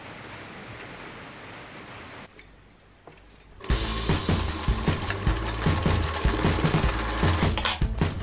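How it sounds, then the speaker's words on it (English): A sewing machine stitches a backless crop top. After a low background hum and a short quiet gap, it runs loud and close in a steady, fast whirring rattle for several seconds. "I'm gonna be sewing here."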